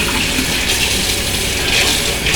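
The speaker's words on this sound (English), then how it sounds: "sometimes I'll fill them with water" Tap water gushes steadily into a small bottle, a loud continuous rushing splash filling the whole moment with no voices.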